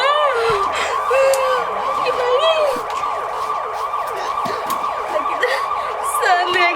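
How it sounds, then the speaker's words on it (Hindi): Ambulance siren wailing continuously with rising and falling sweeps, loud and close, overlapping other siren tones and chatter from people nearby. "एम्बुलेंस का गाड़ी है हम कहै पुलिस के गाड़ी है"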